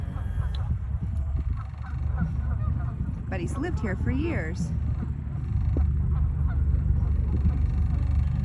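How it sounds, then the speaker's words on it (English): Canada geese honk repeatedly by a river, a short burst of several loud calls in the middle, while someone talks over steady outdoor background noise. "there's a Canadian geese up here making some noise"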